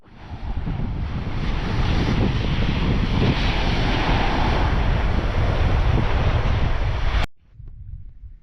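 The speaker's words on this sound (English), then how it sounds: "the waves can get a lot bigger than they usually do here. You can see the white caps are kind of starting to form a little bit" Loud, continuous roar of ocean waves with whitecaps and strong wind buffeting the microphone aboard a sailboat, stopping abruptly near the end.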